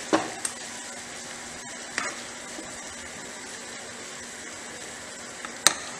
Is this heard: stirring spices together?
yes